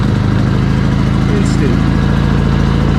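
A WEN 3800-watt inverter generator runs steadily at close range, its loud, even engine drone holding without a break throughout.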